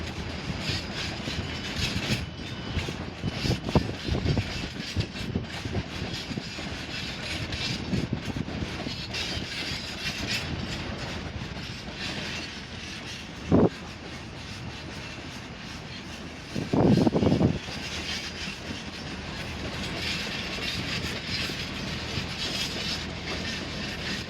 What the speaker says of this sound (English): It's this formation from the 1343 East Midlands Railway service to Newcastle.